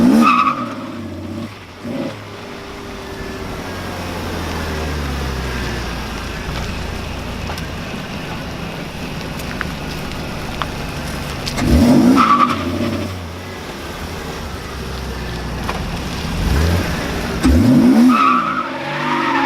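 A BMW accelerating hard in second gear, tires squealing in bursts as the engine revs, with repeated loud surges standing out over a steady roar; no one speaks.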